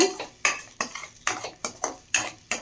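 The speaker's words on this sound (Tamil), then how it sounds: "நல்லா மிக்ஸ் பண்ணி விட்டுக்கலாம்" A spoon mixes ground onion and tomato paste in a pan for a moong dal kuzhambu, six sharp metallic knocks and scrapes against the pan in a regular rhythm, close and loud, with a faint sizzle between.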